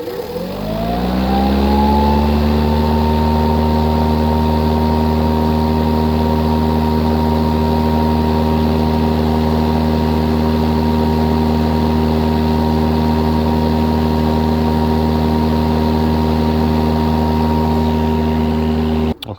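A Toro 60V Vortex 22-inch recycler electric lawn mower motor spins up over about two seconds, then holds a loud, steady, close-up tonal whine and hum until it cuts off abruptly at the end.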